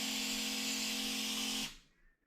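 A sprayer gives a foliar application to the leaves of autoflower cannabis plants: a steady, close, loud hiss of mist with a faint motor-like hum runs for over a second and a half, then cuts off.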